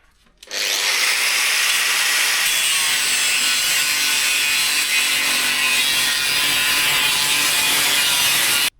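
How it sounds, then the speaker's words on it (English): On a salvaged 2004 Nissan 350Z, a crushed section near the washer tank hoses is cut away, giving a steady, harsh rasping cut that starts abruptly and runs continuously and loudly for about eight seconds. "I'm going to have to very carefully cut off this bit so at least I can get to the pipe"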